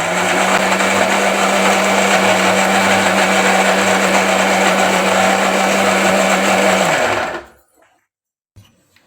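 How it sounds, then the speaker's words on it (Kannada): A mixer grinder whirs loudly and steadily, grinding coriander, coconut, chilli and turmeric into a fine masala. After about seven seconds the motor cuts off abruptly and leaves near silence. "ನೋಡಿ ಫ್ರೆಂಡ್ಸ್, ಈಗ ನುಣ್ಣಗೆ ರುಬ್ಕೋತೀನಿ"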